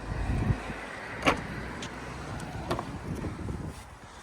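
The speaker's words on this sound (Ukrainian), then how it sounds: "Електропривід багажника." Power tailgate of a Ford Edge Titanium 2.0 petrol operating, a close motor whir with sharp mechanical clicks and a thud, heard alone without talk.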